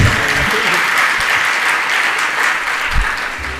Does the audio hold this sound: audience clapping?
yes